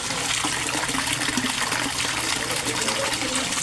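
A powerful aerator bubbling water in a koi pond, a dense, steady rushing gurgle of bubbles and splashing, loud and continuous throughout with no talking.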